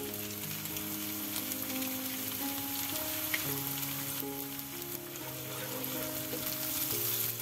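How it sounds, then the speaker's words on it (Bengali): An egg fries with onions in a pan for a cabbage egg fry, a steady sizzle that is loud and continuous and plays under background music with no voice. "ডিমটাকে পেঁয়াজের সাথে ভালো করে ভেজে নিচ্ছি।"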